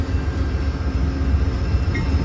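An Amtrak train hauled by a P42 locomotive rolls out, a loud continuous low rumble and steady drone of engine and wheels with no break.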